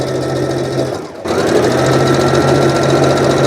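Sewing machine running steadily while stitching a lettuce edge hem on a beginner drawstring dress, a continuous close mechanical whir with a brief dip partway through.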